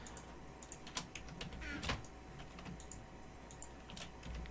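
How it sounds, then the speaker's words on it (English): Typing on a computer keyboard during a game session: quick, quiet key clicks in a steady uneven patter over background hiss, with a brief sliding whoosh midway. "I keep typing on the stupid thing by accident."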